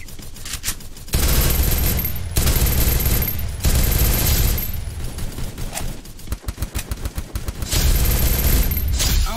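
Gunfire in a video game, likely Free Fire, comes as dense, loud rapid bursts of automatic shots that repeat in several long volleys with brief gaps, close and continuous.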